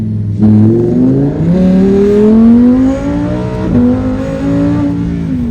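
A 2023 Lamborghini Huracan Tecnica accelerates hard, its engine note climbing steadily through the gears with a brief dip at a shift, loud and close, as the car loses traction.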